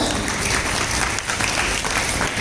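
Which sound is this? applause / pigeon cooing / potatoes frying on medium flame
applause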